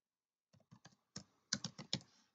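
Typing Python code on a computer keyboard, about nine crisp close keystrokes in quick uneven bursts, starting after a brief silence and with no talking.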